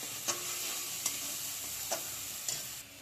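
Spiced fig curry with chilli powder, salt and turmeric sizzles steadily in a pan, with a few sharp scrapes of a stirring spoon breaking through the frying hiss.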